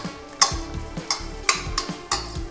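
Onions and cashews fry in a pan for peas pulao, with a low sizzle broken by several sharp scraping strokes of a spoon in an uneven rhythm; nobody speaks.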